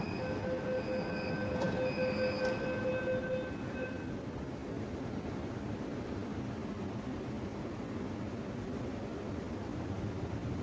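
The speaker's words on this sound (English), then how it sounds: "Let's get in and see how does it feels like traveling in metro during COVID." A Delhi metro train runs along the track with a loud, steady rumbling roar, and high squealing wheel tones ring out over the first few seconds before fading into constant rail noise.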